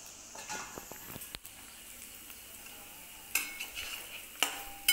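Onion and green chili sauté quietly in a kadai, a low sizzle broken by sharp spatula scrapes and clinks against the pan, close but faint, with no voices.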